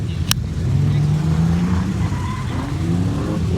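A drift car running laps at a drift park during a beginner drift night, its engine droning and rising in pitch as it accelerates at moderate distance, loud and continuous with no talk.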